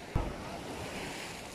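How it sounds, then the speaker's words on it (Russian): Calm sea surf washing gently onto the shore at a Feodosia beach park in the early morning, a steady soft wash of water with light wind noise, low and continuous, without speech. "Море спокойное."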